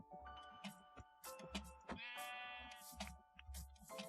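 Minecraft sheep bleat in several short, quick calls that overlap and repeat across a few seconds, faint and close, with no talking.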